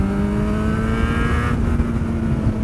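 Yamaha XJ6 motorcycle engine revving steadily and close up after dropping a gear, a continuous loud drone with a rising pitch that eases off partway through.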